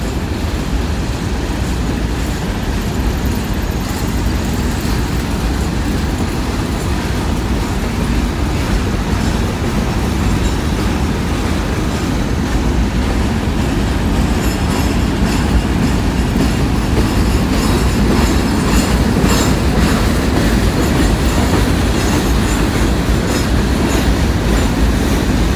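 CSX freight train rolling past a rail yard, loud and close: a continuous heavy rumble with clickety-clack wheel rhythm and faint squeals for the whole stretch, with no voices.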